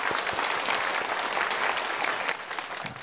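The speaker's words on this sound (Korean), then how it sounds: "오늘 예원교회에 처음 오신 새 가족을 박수로 환영하겠습니다." A church congregation claps together to welcome newcomers during a Sunday service, with sustained, moderately distant applause that tapers slightly near the end.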